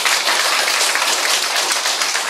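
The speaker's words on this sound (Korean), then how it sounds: "박수 한번 치십시오." Loud, dense applause from a church congregation, steady and sustained throughout with no talking over it.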